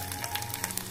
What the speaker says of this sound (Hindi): अब हमारा तेल गर्म हो गया है, हम इसमें अदरक और लहसुन डालेंगे